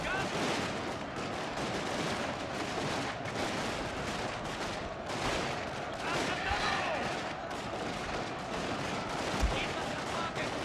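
Musket volleys from a firing line in the strategy game Shogun 2: Fall of the Samurai, dense continuous crackling gunfire rolling across the battlefield throughout, with occasional heavier booms and voices talking.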